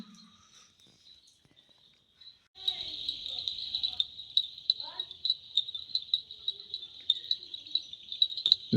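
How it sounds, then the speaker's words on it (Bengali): Crickets chirp in the Dow Hill forest at night, a steady, shrill, pulsing trill close by that starts suddenly after a quiet stretch and continues to the end, with no talking. "ঝিঝি পোকার ডাক।"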